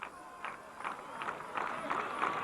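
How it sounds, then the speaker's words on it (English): Baseball crowd at a 1997 CIF Division I high school game cheering for La Costa Canyon, a rising wash of voices and applause with bursts of noise swelling every half second or so, fairly distant and building louder. "Crowd starting to get into it for La Costa Canyon."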